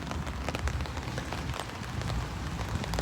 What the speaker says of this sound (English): It is raining this afternoon.